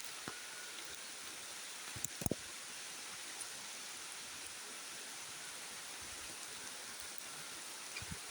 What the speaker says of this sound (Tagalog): Naririnig na siguro yung ulan